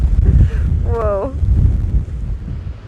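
Strong wind on the Outer Banks coast buffets the microphone in heavy, uneven low gusts, loud and close, with a brief voice heard partway through.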